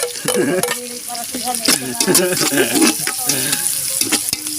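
Chopped garlic is added all at once to a hot pan in a rural Filipino home kitchen and sizzles loudly and steadily, with stirring scrapes throughout. The frying sounds close and continuous.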